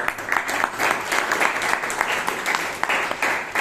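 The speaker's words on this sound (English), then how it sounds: "One more round of applause for Toastmaster Aranya." Steady applause from an audience at a Toastmasters meeting in Bangalore, close and fairly loud clapping for a few seconds.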